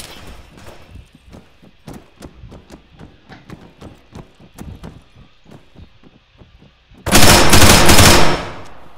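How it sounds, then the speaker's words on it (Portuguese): Rapid bursts of gunfire in the video game Arma 3 crack out in an irregular string, then a loud sustained blast of noise erupts for over a second before cutting off. "Nossa, tá tendo um tiro aqui"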